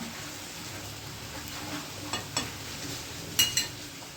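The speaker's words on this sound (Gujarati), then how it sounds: "હવે આ ગલકાનો મેં વઘાર કર્યો લસણનો" Soft, steady sizzling of garlic tempering in a pan, with a few light clinks of a utensil stirring near the end.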